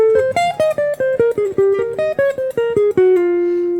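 A jazz sequential pattern on a single melodic instrument cycles over dominant seventh chords in a bop tune, with about sixteen quick, evenly spaced articulated notes ending on one sustained tone. It sounds close and clear, with no talking.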